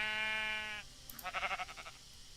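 A sheep in a farming video game gives one long, loud, wavering bleat, followed by a short burst of quicker, choppier bleating sounds.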